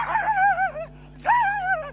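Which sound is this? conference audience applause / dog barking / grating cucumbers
dog barking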